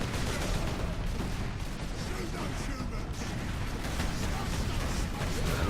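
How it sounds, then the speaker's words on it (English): Dense video game gunfire, a continuous loud barrage of shots and bursts blending into a heavy wall of noise throughout. "I'm gonna shoot you in the head."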